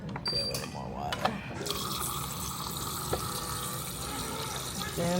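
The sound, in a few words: pouring water from the fridge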